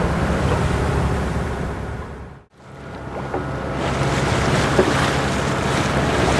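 A sailboat motoring under engine power at sea off the Portuguese coast near Nazaré, heard as a loud steady wash of wind, waves and engine rumble, with a brief dropout in the middle.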